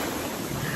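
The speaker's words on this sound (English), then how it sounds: "beautiful big waves, only for me" Big ocean waves on an empty beach in China, a dense, continuous roar of surf and wind buffeting the microphone, loud and unbroken with no voices.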